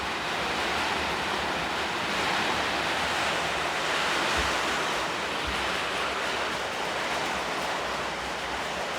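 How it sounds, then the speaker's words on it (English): Steady rain during an outdoor landscape painting session in New Zealand, a dense, even hiss holding at one level throughout with no voices, close to the microphone and partly blended with wind-like rushing noise. "Sorry for the rain."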